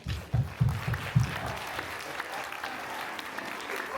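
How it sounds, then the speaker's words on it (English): An audience applauds at the end of a panel discussion at an International Women's Day luncheon, a burst of clapping that rises in a few strong waves and then fades out. "Everyone, please give a round of applause for us."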